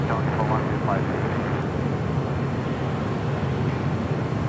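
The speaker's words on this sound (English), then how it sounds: "And the last departure of the stream here today, United Airlines Flight 923 heading to London and a 787-9 Dreamliner." A United Airlines Boeing 787-9 Dreamliner departs LAX for London, its engines a steady, broad roar heard from outside at the airport, continuous and fairly loud throughout.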